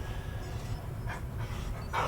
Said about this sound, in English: the dog is now absolutely going to drive me nuts